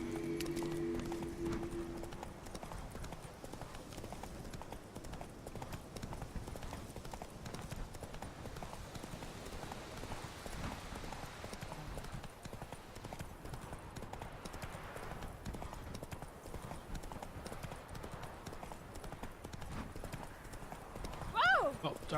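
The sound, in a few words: horse hooves and neighing in video game The Witcher 3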